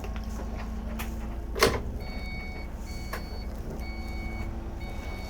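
Rhythmic electronic reversing beeps repeat steadily from a vehicle backing up near a central curb at new quays in Lesneven, over a low engine idle with a brief thump partway through.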